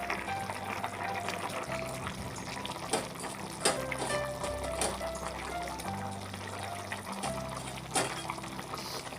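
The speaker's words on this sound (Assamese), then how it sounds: "প্ৰায় উতলিব ধৰিছে।" Paneer curry bubbling in a pan as it comes to a boil, a soft continuous simmering with faint gurgles and occasional pops, close and fairly quiet.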